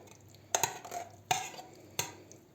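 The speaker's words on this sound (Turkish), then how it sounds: "Şimdi üzerine kavurmuş olduğum soğanlarımı ilave ediyorum." Sautéed onions being added to chopped spinach and stirred with a utensil, three sharp clinks against the bowl or pan amid soft scraping and rustling, close and fairly quiet.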